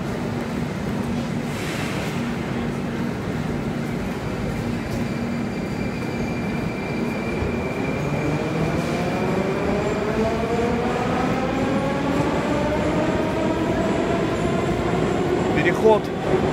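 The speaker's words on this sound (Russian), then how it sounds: "Вот такая станция метро Павелецкая. На кольцевой линии." A metro train runs through Paveletskaya station on Moscow's ring line, a steady loud rumble with rising and falling whine as it moves, and a brief squeal near the end.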